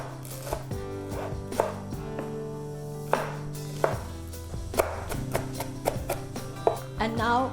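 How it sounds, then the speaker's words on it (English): A knife finely chops fresh coriander on a board in quick, repeated taps, close and clear, with a low background hum and no talking. "We have to chop it really fine."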